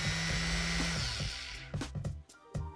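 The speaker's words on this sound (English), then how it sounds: "The motor moves the sanding pad in a circular motion at high speed." An orbital sander whines steadily up close, then winds down and stops, followed by a few scattered knocks and scrapes.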